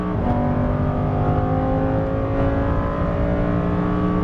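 A Lamborghini Huracan Performante, all-wheel drive, accelerates hard on a race track. The engine's loud, close whine climbs steadily in pitch without a break.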